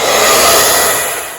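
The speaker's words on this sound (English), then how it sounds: "I'm also going to speed this up with the hairdryer" A hairdryer blows a loud, steady broadband whoosh at close range as it dries watercolour paint, then tapers slightly at the end.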